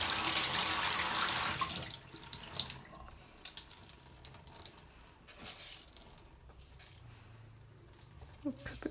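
Tap water runs hard into a sink while a makeup sponge is washed under it. The stream stops after about two seconds, then come quieter splashes, drips and squeezing sounds.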